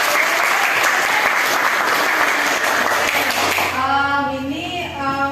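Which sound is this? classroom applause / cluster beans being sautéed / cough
classroom applause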